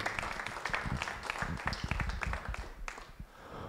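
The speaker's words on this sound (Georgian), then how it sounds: "აპლოდისმენტები მეგობრებო." Applause from a live audience at a fight-promotion press conference in a hall, dense overlapping claps rising and falling for a few seconds, moderately loud and close, with some crowd noise mixed in.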